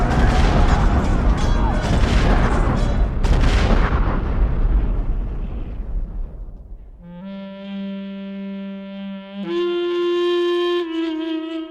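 Cannon fire in an Ottoman–Safavid battle scene: a dense barrage of heavy booms and rumbling blasts for about seven seconds, fading into sustained orchestral tones.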